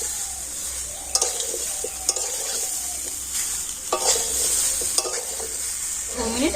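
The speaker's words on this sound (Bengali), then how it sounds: "আর এবার আমগুলোকে তেলের মধ্যে অল্প একটু এইভাবে নাড়াচাড়া করে নেবো" Raw mango pieces are stirred in hot oil for pickle, giving a close, continuous sizzle punctuated by repeated scraping spoon strokes against the pan.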